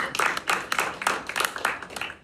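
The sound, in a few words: audience clapping at a stand-up comedy show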